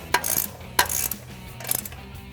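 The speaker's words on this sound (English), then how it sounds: "I'm gonna get my ratcheting wrench on there." A ratcheting wrench tightens a stud on a Silverado 1500 front strut assembly, giving three short bursts of quick metallic clicking, close and clear with brief gaps between strokes.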